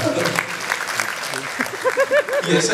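Audience clapping at the Hridayam film audio launch, a steady dense wash of applause running throughout, with a voice speaking over it near the end.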